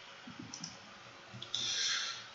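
A soft click followed by a bright, chiming notification tone of a subscribe bell, short and clean, faint and alone without any voices.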